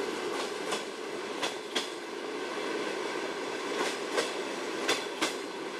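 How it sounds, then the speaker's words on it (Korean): Steady rumbling of an overnight train rolling on rails between Vladivostok and Khabarovsk, with periodic clicks and clacks from the wheels over joints, no voices. "블라디보스토크에서 하바롭스크까지 밤새 달리는 야간 열차에 몸을 찔렀다"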